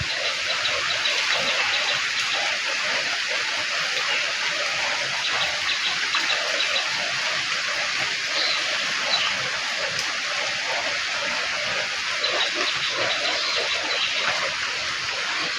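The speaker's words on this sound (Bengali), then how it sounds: "চারিদিকে কেমন জল বইছে দেখুন" Rainwater flows steadily all around after heavy rain, a dense, continuous broadband wash of running and splashing water with no pauses, fairly loud and close.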